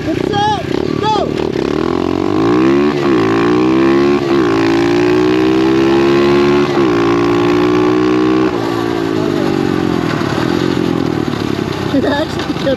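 A 2021 SSR 125 pit bike races a Kawasaki KLX with loud, close engines revving and shifting up through the gears, rising and falling whines overlapping, with shouts over the roar.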